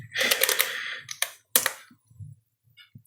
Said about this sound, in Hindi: मैं बहुत तेज़ी में टाइप करना चाहता हूँ लेकिन मैं टाइप नहीं कर पाता हूँ